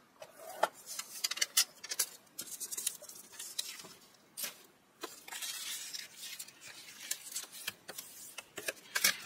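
Paper being scored on a scoring board: a quiet, close series of irregular scraping strokes and light taps.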